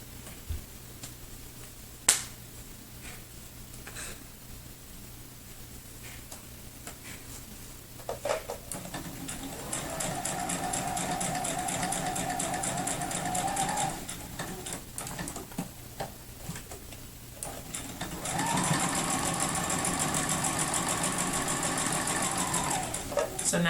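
A sewing machine stitches a quilt bowtie block in two long whirring runs with a steady rhythmic hum. Scattered clicks and handling noises come before and between the runs.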